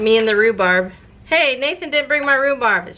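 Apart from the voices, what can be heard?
No everyday noise stands out behind the speech.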